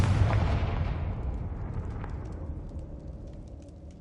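A Confringo spell explosion in the video game Hogwarts Legacy, a deep booming blast already under way that rumbles and fades slowly over four seconds, with faint scattered crackles in the tail.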